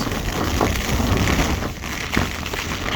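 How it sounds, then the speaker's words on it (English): Steady, dense hiss of rain and wind pressing on the fabric of a Lanshan 1 Pro tent at a wild camp by Llyn y Fan Fach, constant and enveloping with no pauses. "The wind outside sounds horrific"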